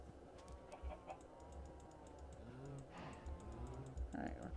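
Chickens clucking inside a survival video game, short bird calls popping up over rapid keyboard typing, with a person talking at times.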